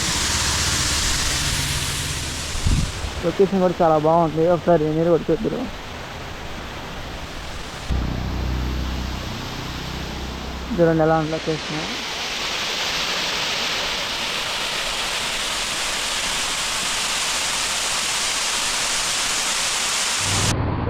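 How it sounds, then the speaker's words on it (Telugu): Steady roar of a roadside waterfall on the way to Munnar, Kerala, fills the scene, a broad continuous rush close by, with someone speaking briefly over it. "వాటర్ ఫాల్ ఒకటి కనబడింది. రోడ్డు పక్కనే ఉంది."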